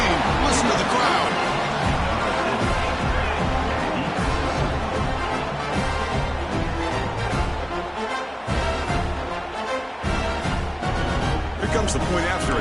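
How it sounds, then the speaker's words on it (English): Stadium crowd at a USC championship football game roars continuously after a touchdown, a dense, loud, sustained cheer filling the whole stretch. "Listen to the crowd."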